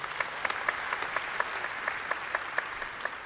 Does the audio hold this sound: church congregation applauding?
yes